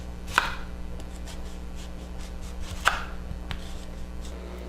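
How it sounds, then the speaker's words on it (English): Kitchen knife slicing onions on a cutting board for fried rice, two crisp distinct chops a few seconds apart with a faint third tap, close and quiet over a low steady hum, no voices. "we're going to start cutting up our onions"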